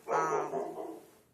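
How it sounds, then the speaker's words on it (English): A dog gives a single short bark or yelp, faint and somewhat distant in the background, with no talk over it. "excuse my dog in the background"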